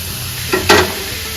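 Dal poured into hot frying gravy for hotel-style dal fry, a short stir followed by a sharp burst of close sizzling that quickly settles back to a low simmer.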